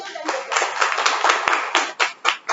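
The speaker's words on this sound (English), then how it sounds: "A huge applause for Toastmaster Anirudh" Audience applause at a Toastmasters meeting, a modest group clapping close by in an uneven rhythm, with a few individual sharp claps standing out as it tapers off.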